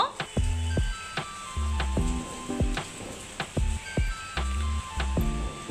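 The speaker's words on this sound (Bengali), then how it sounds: "এভাবে মিষ্টিগুলো মানে এই রিং মিষ্টিগুলো ভেজে নিব।" Homemade ring sweets fry in oil, a soft continuous sizzle broken by repeated knocks of a wooden spatula against the pan, recorded close by.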